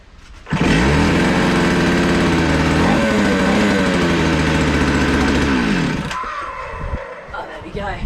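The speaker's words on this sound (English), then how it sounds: "first we've got to see if this chainsaw engine actually works" A small two-stroke chainsaw engine clamped to a piece of wood starts up loud and close, holding a steady buzzing drone that shifts slightly in pitch before dropping away to a rough idle near the end.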